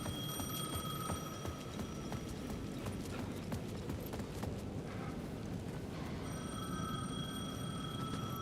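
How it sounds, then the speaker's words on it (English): A payphone rings repeatedly at the edge of a plaza in the video game Alan Wake 2, steady bell tones repeating over a dense, clattering ambient bed with no talk. "The payphone at the edge of the plaza was ringing again."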